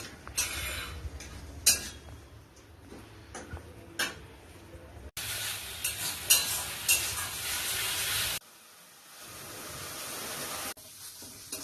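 Ground raw cabbage-leaf paste frying on a low gas flame, a soft continuous sizzle broken by scattered ticks and scrapes of stirring, dropping to a quieter hiss near the end.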